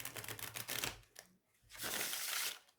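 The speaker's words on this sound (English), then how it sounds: "Here we go, another shuffle." A deck of tarot cards is shuffled close up, giving rapid crisp riffling and flicking bursts separated by a brief quiet pause.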